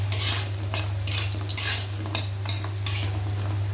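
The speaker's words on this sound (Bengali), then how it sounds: "এই বড়িটা আগে তেলের ভেতর ভেজে নেব" Bori lentil dumplings frying in hot mustard oil in a kadai, a steady low hiss under repeated clinks and scrapes of a metal spatula stirring against the pan, close and moderately quiet with no talking.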